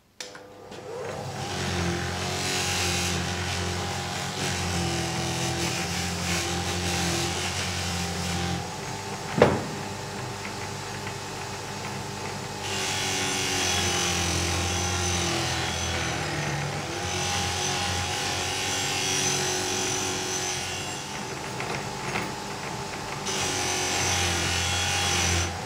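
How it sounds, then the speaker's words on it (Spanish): A knife is polished on a fine buffing wheel charged with Pulimax mirror-finish compound. The motor whirs steadily and fairly loud throughout, with a single sharp knock partway through and no talking. "Voy a la rueda más fina y para esto le voy a poner el Pulimax"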